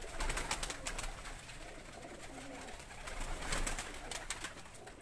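Breeding pigeons, pure-condition blue-tailed birds, coo on a rooftop loft in Mansoorabad, a faint, continuous low murmur of several birds under a breezy outdoor hiss with sharp intermittent ticks.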